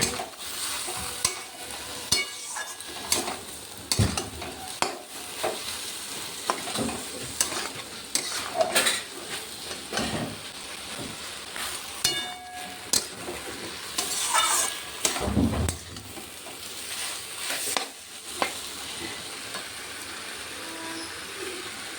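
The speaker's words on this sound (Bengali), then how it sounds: "এবার ভেজে রাখা সবজিগুলো এবার এর ভিতরে দিয়ে দেবো। দিয়ে ভালো করে কষিয়ে নেব।" Fried vegetables being stir-fried in a pan, with repeated sharp scraping strokes of a spatula over a steady sizzle, the stirring coming in irregular bursts and no voices present.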